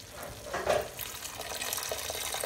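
Water pours from a tap or jug onto couscous and tfaya, a steady near splashing stream with a brief louder gush early on.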